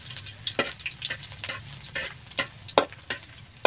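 Food frying in hot cooking oil in a pan while making sautéed banana blossom, with a soft sizzle under irregular sharp stirring clicks and spatula taps, close and with no talk.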